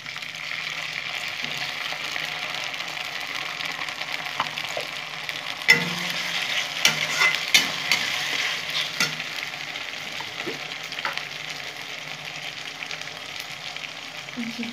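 A ginger, garlic, tomato and onion paste fries in a pan with a steady broadband sizzle, joined by a few louder clicks and scrapes of stirring partway through.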